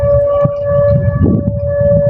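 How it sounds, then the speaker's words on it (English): A steady, high-pitched civil defense style flood alarm siren wails continuously, loud and unbroken, with rumbling background noise underneath. "That's the siren for the flood."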